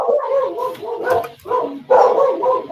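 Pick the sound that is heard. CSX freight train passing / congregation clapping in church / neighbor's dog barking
neighbor's dog barking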